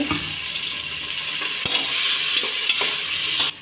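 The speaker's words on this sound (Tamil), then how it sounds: "நல்லா வதக்கி விடுங்க." Tomatoes and onions sautéing with salt in a pan, giving a loud, even sizzle close by with occasional light clicks and scrapes of a stirring spoon.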